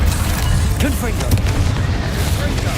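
A Confringo fire spell going off in Hogwarts Legacy, a loud booming blast inside dense game combat noise, with a voice talking over the action.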